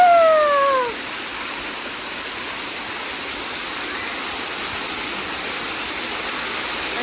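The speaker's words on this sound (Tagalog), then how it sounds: "Ang sarap ng ang tunog ng tubig." Flowing water at a waterpark, a steady broadband rush like a small waterfall running continuously, with a brief high squeal or voice at the very start.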